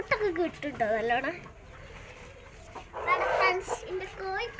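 A hen clucks in short bursts close by, with people talking over and between the calls.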